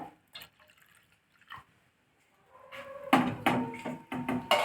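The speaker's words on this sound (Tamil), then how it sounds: "இப்போ வந்து நான் ஒரு முக்கால் லிட்டர் அளவுக்கு பால் சேர்த்துக்கிறேன்" Milk being poured into a pot for rice payasam, starting with a few scattered drips and then building into a louder, splashing pour close by.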